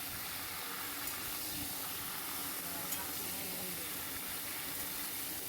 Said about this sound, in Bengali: ঝিঙেগুলো দিয়ে কিছুটা আবার নেড়ে নিতে হবে